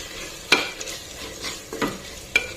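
Spoon stirring tomatoes and salt in a pan for wheat rava khichdi, soft scraping with a few sharp taps against the pan over a faint sizzle, close and quiet with no talking.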